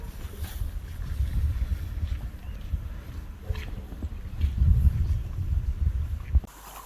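A packraft moves through Patagonian fjord water, with steady low sloshing and paddle strokes under faint wind, rising slightly near the end before stopping abruptly.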